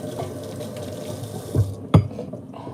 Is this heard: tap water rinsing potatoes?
yes